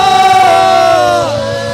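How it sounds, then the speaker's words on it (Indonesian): A church congregation lets out a loud, sustained joyful shout during a worship service in Papua, one long raised cry that holds and then tapers off. "Sorak-sorai."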